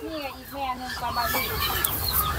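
Chinese geese in their pen on a farm give a series of honking, harmonic calls that overlap, with a voice talking over the flock.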